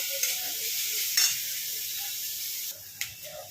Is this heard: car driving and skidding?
no